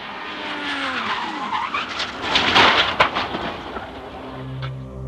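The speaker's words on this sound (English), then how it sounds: "Without warning, the rear swerves out and the car spins uncontrollably." Race car in CART racing, its rear tires losing grip as the car skids and spins out, a loud screeching tire squeal with engine roar that builds to a peak mid-way, then fades to a low rumble, no talk.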